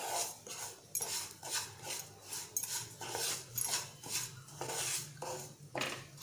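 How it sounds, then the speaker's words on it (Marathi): Semolina being stirred and roasted in a metal pan for mango sheera, a steady series of close scraping and clinking strokes of the spoon against the pan, repeating about once a second with no talking. "असं सर्व बाजूने आपल्याला रवा छान परतवायचा आहे"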